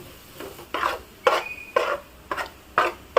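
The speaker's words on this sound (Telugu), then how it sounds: "ఇప్పుడు ఒకసారి మొత్తం కలుపుకోవాలండి" A spoon or spatula stirs and tosses chicken fried rice in a pan, about six evenly spaced scraping strokes, close and clear with no talking.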